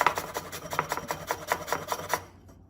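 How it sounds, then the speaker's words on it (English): Fresh ginger grated by hand for Mongolian beef, a close rhythmic rasping of about a dozen quick strokes, steady and dry, stopping abruptly near the end. "And then grate it."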